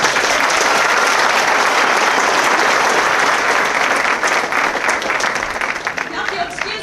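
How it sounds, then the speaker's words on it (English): Loud, sustained applause from the audience at a Marine Corps recruit graduation at Parris Island, a dense, steady roar of clapping that thins slightly toward the end. "please, a round of applause for our recruiters, our drill instructors, and their families"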